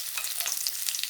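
Garlic hitting hot oil in a pan, a loud dense sizzle with light crackling, brief and close, no voices.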